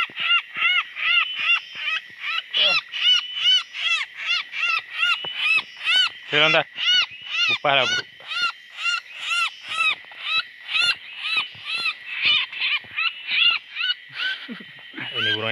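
A captured wild bird gives rapid, repeated harsh calls in a steady rhythm, loud and close, with a voice briefly speaking Indonesian over it.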